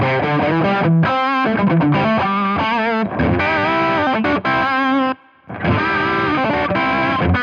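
Electric guitar through a Strymon Riverside overdrive pedal plays a loud, dense distorted riff with full bass and bright treble, broken by a brief silent gap near the end before the playing resumes.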